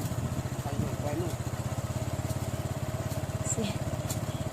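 A motorcycle engine runs steadily while being ridden, a close, even, rapid thrumming pulse that continues throughout, with voices talking over it.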